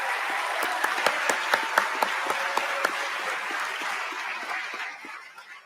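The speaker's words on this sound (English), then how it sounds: "please, a round of applause for starters for Victor Montoya." An indoor audience at an awards event gives a round of applause: dense, steady clapping with a few sharp individual claps standing out, fading toward the end, no voices heard.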